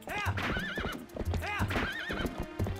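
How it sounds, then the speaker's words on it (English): A horse in a Zelda game gallops with quick, rhythmic clip-clop hoofbeats and lets out repeated rising neighs, loud and close, all game sound with no voices. "I ride the horse."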